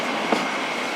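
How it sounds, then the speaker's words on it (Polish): Passenger train rolling through the Poprad valley, slowed for a sharp bend, giving a steady, even rumble of wagons with a brief louder knock partway through, close and continuous with no voices. "Pociąg musiał zwolnić"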